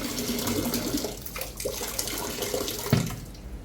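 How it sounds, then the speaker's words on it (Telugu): Soaked husked black gram being rinsed and washed in water, with steady running-water splashing and swishing throughout and a brief louder slosh near the end, close and moderately loud with no voices. "ఆ పొట్టు మినపప్పు శుభ్రంగా కడుక్కుని"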